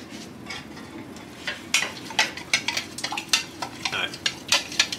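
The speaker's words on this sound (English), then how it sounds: "You can hear it kind of boil now." Apple pie filling bubbling in a pot while a spoon stirs it, giving soft scraping and irregular clinking taps against the pot over a quiet bubbling background, close and faint.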